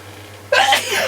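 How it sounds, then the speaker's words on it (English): A single sharp sneeze from a man at a scale-model workbench, bursting out loud and close after a quiet stretch of near silence. "I'm going to sneeze."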